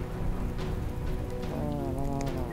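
Rainfall in Dyscourse, a dense, constant hiss of falling rain at even loudness throughout, layered with a low rumbling bed and faint tonal music.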